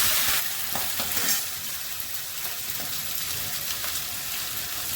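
Shrimp sizzle loudly in hot oil with chili, bay leaves and panch phoron for a chal kumro ghonto. The close, dense frying hiss runs continuously, briefly louder at the start.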